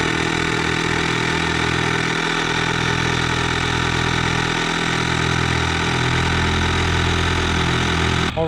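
A portable tire air inflator pumps up a truck tire from about 4.5 PSI, making a loud, steady buzzing drone that runs without a break from start to finish, close up and with no talking over it.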